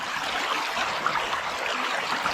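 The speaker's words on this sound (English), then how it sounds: "basically you just let the water run back through" Water trickles steadily back through a filter bag, a continuous mid-level stream with no pauses.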